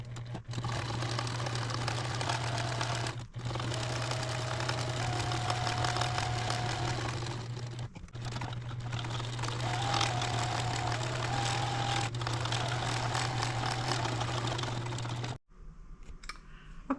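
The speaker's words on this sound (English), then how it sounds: "Okay, it's top stitched all around." Sewing machine running steadily while top stitching around the edge of a Halloween fabric placemat, a continuous motor hum with brief pauses, then stopping near the end.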